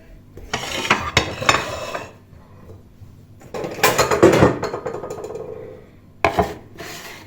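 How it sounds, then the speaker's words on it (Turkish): Clattering kitchen sounds as fruit is chopped, with knocks and scrapes of a knife against a board and dishes, in irregular bursts, fairly close, with pauses between. "Hem de meyveyi doğrayayım sizinle."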